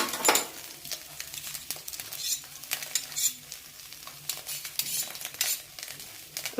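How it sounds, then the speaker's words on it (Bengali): Scrambled egg with chopped chilli fries in a pan, hissing and sizzling close by while a utensil scrapes and stirs in irregular bursts, with no talk. "তো ডিমটা এখন ভাজা হচ্ছে।"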